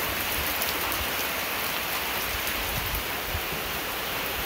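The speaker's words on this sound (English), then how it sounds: "went from nothing to pouring down rain" Heavy rain pouring down in a dense, constant hiss, steady and loud with no pauses or voices, during a sudden shower at an Indiana creek.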